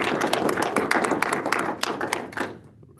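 Scattered clapping from a small group at a school board meeting, a dense patter of hand claps that runs steadily for a few seconds before thinning out and stopping.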